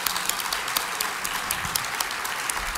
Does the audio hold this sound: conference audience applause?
yes